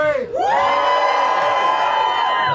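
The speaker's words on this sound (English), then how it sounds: "Perfect amount of woos for a Saturday night" A Saturday-night comedy club audience whooping and cheering, a loud sustained crowd of high overlapping woos that swells quickly and holds steady.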